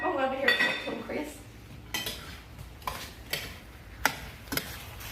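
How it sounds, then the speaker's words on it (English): A spoon stirring apples in a cooking pot for fried apple pies in a home kitchen, giving scattered clinks and scrapes against the pot's side with a few sharp taps, close by and moderately quiet. "I'm going to reach behind me and stir this."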